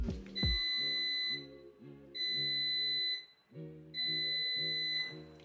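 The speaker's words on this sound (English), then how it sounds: "your air fryer will beep 3 times." A COSORI Air Fryer Pro LE 5-quart signals the end of preheating with three long, clear electronic beeps evenly spaced about two seconds apart, close and alone.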